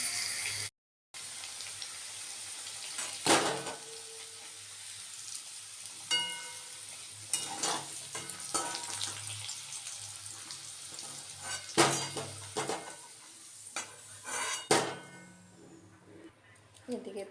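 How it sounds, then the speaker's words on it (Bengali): Onions and potatoes sizzle steadily in a frying pan, with a continuous crackling hiss, occasional scrapes and clinks of stirring, and a voice talking over the cooking. "এদিকে দেখুন পেঁয়াজ ভাজা হচ্ছে"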